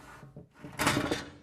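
A Dometic CFX3 45 powered cooler slide in a 2022 Toyota Tundra is pulled out on its rails, giving a brief close sliding rumble after a soft click.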